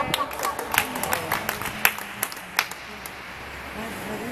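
A charismatic church congregation claps, with scattered sharp hand claps over a murmur of voices and talk, loud at first and thinning out toward the end.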